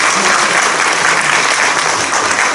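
Loud, dense applause from a large audience at a church general assembly candidates' policy debate, a steady roar of many hands clapping close by without pause throughout.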